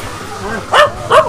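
Two sharp yapping barks from a small dog, close by, over a steady background hum.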